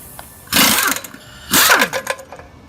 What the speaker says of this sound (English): Now we're going to remove the lug nuts.